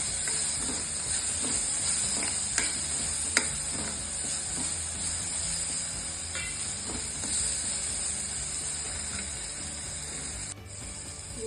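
Chopped onion, tomato and green peas sautéing in a pan for a Maharashtrian brinjal bharit, a steady soft sizzle with occasional scrapes and taps of a stirring spoon.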